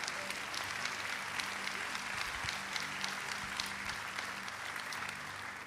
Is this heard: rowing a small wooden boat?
no